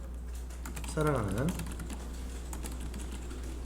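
Text being typed on a computer keyboard into a text box, several quick light key clicks in an irregular run, heard under and after a short spoken Korean phrase.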